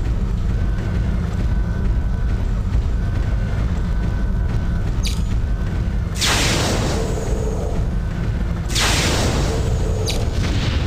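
Heavy weapons fire and blasts in Mechwarrior 3 sound over a loud, constant rumbling din, with two big bright bursts of booming noise about two and a half seconds apart.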